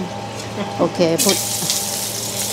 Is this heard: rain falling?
no